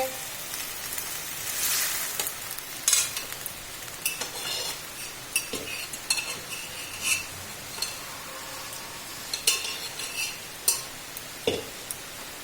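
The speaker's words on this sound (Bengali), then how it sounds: "এখানে গ্যাস গ্যাসে কুমড়ো শাকের চচ্চড়ি করছে বড়ি দিয়ে কাঁঠাল দানা দিয়ে" Pumpkin-greens chorchori with lentil bori and jackfruit seeds cooks in a pan on a gas stove, giving a steady soft sizzle broken by repeated close scraping and clinking stirring strokes, with no talk.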